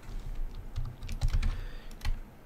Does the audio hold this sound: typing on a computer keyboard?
yes